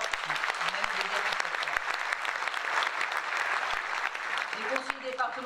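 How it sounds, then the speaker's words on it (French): Sustained audience applause at a New Year's greetings event held by a Marseille district town hall, dense and steady throughout, with some faint voices and a brief tonal sound near the end. "Et on peut les applaudir aussi très fort."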